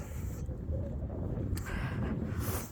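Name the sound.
wind blowing on microphone outdoors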